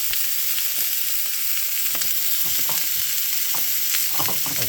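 A burger patty frying in a pan over medium-low heat with bits of onion, a dense continuous sizzle with faint crackles and a few soft clicks, close and steady.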